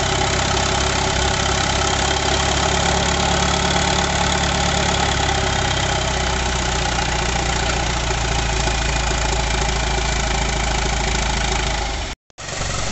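A John Deere 2755 Turbo tractor engine runs steadily at idle after a hydraulic radial pump repair, a dense, loud, close rumble that holds constant before cutting out abruptly near the end.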